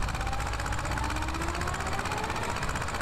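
A Zetor HMT 2511 mini tractor engine in Farming Simulator 18 runs with a steady, rattling mid-pitched chug that stays even and close for the whole stretch.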